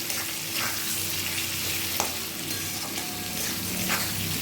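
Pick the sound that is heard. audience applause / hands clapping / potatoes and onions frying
potatoes and onions frying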